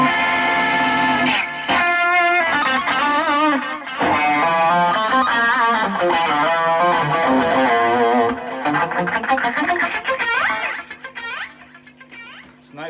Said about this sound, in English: It's nice with chorus and distortion sometimes.